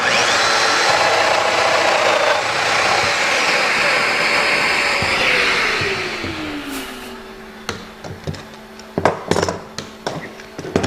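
A Festool Domino XL joiner plunges into a clamped wooden workpiece to cut a mortise, a loud steady motor whine with cutter noise for about six seconds, then spinning down into scattered knocks and handling clatter.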